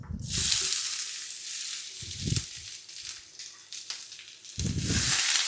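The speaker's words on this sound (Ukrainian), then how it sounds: "Поки в нас смажиться цибуля" Onion sizzles in hot oil in a pan, a steady bright hiss broken by a few low scraping stirs.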